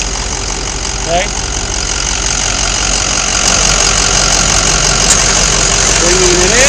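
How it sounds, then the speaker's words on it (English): HM8 winch reeling in its steel cable, a steady mid-pitched motor hum with faint whine running continuously under a constant engine idle, close and moderately loud throughout. "As I bring it in, remember to watch how the cable is spooling and re-wrapping."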